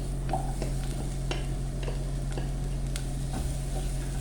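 Potatoes are sautéed and stirred with garam masala for a fenugreek-leaf potato curry, a soft continuous sizzle under a steady background hum, with light, irregular ticks and scrapes of the spoon against the pan.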